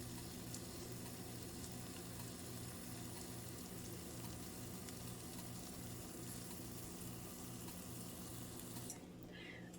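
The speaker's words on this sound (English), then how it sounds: "As you can see, I'm making my eggs." Eggs frying in a pan for a keto breakfast, a steady dense sizzle that runs without a break and stops sharply near the end.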